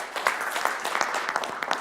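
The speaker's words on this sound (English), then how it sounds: "I think another round of applause for everyone" A conference audience at a business forum gives a round of applause, with dense, close clapping that carries on steadily for the whole short stretch.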